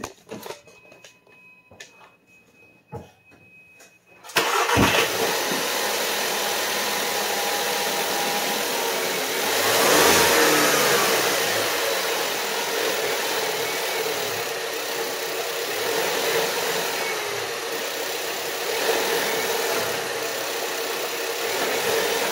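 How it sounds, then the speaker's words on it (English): A Volkswagen MK7 Alltrack engine starts after a few seconds of light clicks and knocks, then idles as a steady, close hum with a brief rise in revs partway through. "So I'm gonna start the car, do it, put it in forward and reverse"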